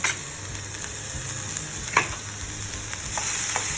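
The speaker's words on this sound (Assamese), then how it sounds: "এতিয়া চপ কৰা পিঁয়াজখিনি দিব" Chopped onions sizzle and crackle steadily in a pan for an Assamese besan egg curry, with occasional louder pops and stirring scrapes, close and continuous without talk.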